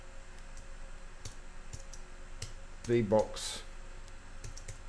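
Faint, sparse key clicks come from a computer keyboard as a Linux terminal command is typed into a Kali Linux virtual machine. A brief spoken word cuts in partway through.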